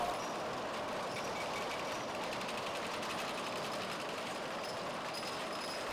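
A jute softening machine with fluted rollers runs continuously, a dense rumbling, clattering mechanical drone with a steady rapid rhythm, even and unbroken throughout.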